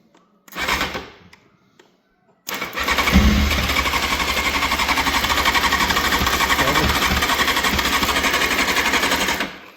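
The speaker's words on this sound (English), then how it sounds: "So with a bit of fan dangling and a bit of bypassing, we know that it turns over." A cheap Honda CBR motorcycle engine turning over with its starter solenoid bypassed: a short cranking burst, a pause, then a longer steady rapid whirring crank lasting several seconds, close and loud.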